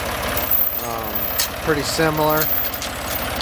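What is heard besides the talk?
Ford 335 industrial tractor engine idling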